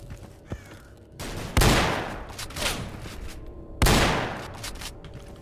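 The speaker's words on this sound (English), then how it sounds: "You know, I love these shotguns." Shotgun blasts from STALKER: Call of Pripyat, two loud booming shots about two seconds apart with decaying tails, plus lighter gunfire and background game noise between them.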